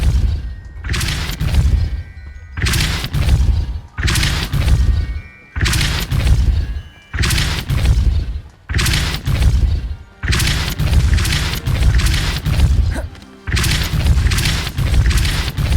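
Confringo and Depulso spell blasts fired in Hogwarts Legacy, a string of about seven loud, booming impacts at a steady rhythm, each a heavy burst that cuts off sharply before the next, with no talk.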